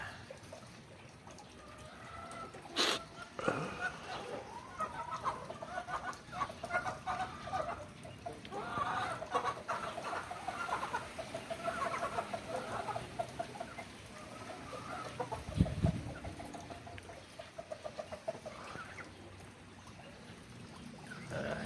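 Hens cluck among domestic birds kept near their nest, a run of moderate, fairly close clucks with scattered louder calls over steady outdoor background noise.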